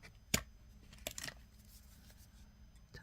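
Small scissors snip off excess beading wire while sugar skull earrings are finished, two or three quick faint cuts in a quiet room.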